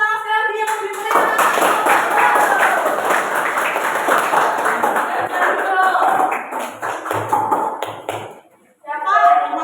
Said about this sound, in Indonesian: Yuk tepuk tangan sekali yang lebih meriah.